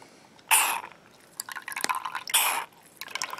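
Water with a little ammonia squirts and sputters as it is pushed out through the feed of a Delta Fusion 82 fountain pen. Two loud wet bursts stand out among smaller close drips and squishes.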